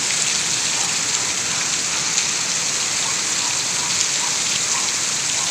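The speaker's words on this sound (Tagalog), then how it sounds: "Mahapay sa malakas ang ulan at hangin" Heavy rain pours down steadily in a strong wind, a dense, unbroken hiss of water striking surfaces close by, with no voices over it.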